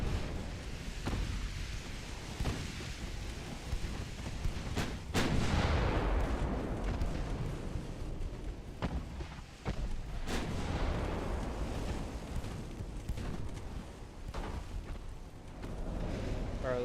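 Warship main gun turrets in a naval video game firing, with heavy booming blasts and rumbling reports that roll over a constant dense wash of battle noise.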